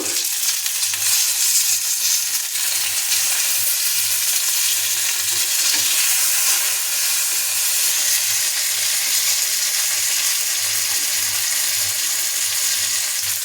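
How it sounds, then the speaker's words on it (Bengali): Pieces of fish frying in a frying pan, probably with the lid on, produce a loud, constant, even sizzle that lasts throughout with no voices. "এই ফ্রাইং প্যানের উপরে মাছগুলোকে সুন্দরভাবে ভাজার জন্য আমরা একটা ঢাকনা দিয়ে দেব"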